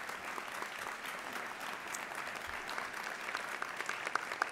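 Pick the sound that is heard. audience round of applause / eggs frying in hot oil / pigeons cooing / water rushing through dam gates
audience round of applause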